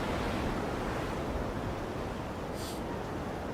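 A storm at sea roars in the naval game World of Sea Battle, dense rushing waves and wind forming a loud, constant wash with a brief hiss partway through.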